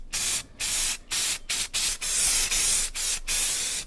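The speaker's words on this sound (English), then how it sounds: "we got to get the letters black and the checkers black, so just spray the whole thing" Bursts of spray paint hiss onto car emblems in a steady rhythm of short blasts with brief gaps, close and loud, followed by a longer continuous spray near the end.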